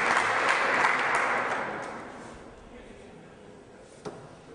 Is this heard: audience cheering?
yes